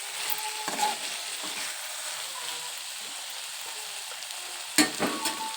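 Potato gobi manchurian tossed with chopped coriander in a pan, a steady soft sizzle with a few scraping stirs and one sharper clatter near the end, no talking.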